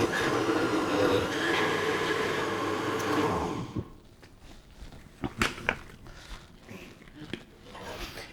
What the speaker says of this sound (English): This is my German Rummelsbacher blender.